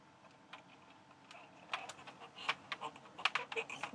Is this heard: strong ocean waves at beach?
no